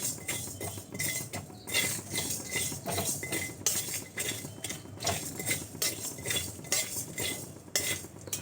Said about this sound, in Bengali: অল্প হিটে আমি মশলাটা ভালো করে ভেজে নেব।